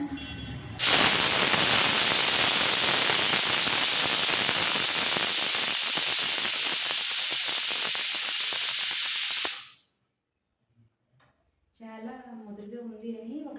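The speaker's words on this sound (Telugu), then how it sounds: "లాంగ్ విజిల్లే వస్తున్నాయి చూసారా అండి ఇప్పుడు ఒక రెండు విజిల్ అయ్యాయి" A pressure cooker cooking a goat head curry lets out a long, loud, steady whistle of escaping steam for about nine seconds, then cuts off abruptly, and a voice starts speaking after a short silence.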